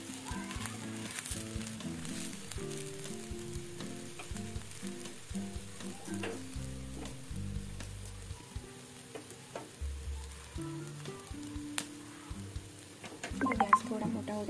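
Cucumber thalipeeth frying in oil on a pan, a continuous crackling sizzle with scattered pops and some light scraping, close and steady with no speech.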